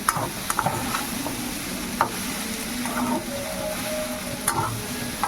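Pasta and egg stirred together in a pan with very little oil, giving a steady low sizzle with scattered clinks and scrapes of the spoon throughout.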